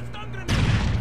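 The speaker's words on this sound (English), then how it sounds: "Throwing stun grenade!" A stun grenade goes off in the video game Modern Warfare 3: after a brief stretch of game noise and a voice line, a sudden loud, broad blast with a sustained rumbling tail.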